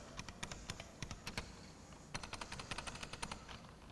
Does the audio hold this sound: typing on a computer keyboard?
yes